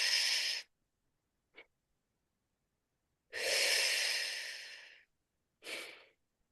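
Breath work through the nose: a long forceful exhale, a tiny sniff, then a long slow breath and a final short puff, close and clear against silence.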